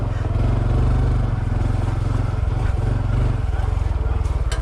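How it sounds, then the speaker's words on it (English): A Honda CT125 motorcycle putters along a tropical single-track trail in Thailand in second gear, with light throttle blips. Its steady, close engine drone holds throughout with a slight rise and fall. "I'm just putting along in here in 2nd gear and just barely blipping the throttle, and the machine is doing great."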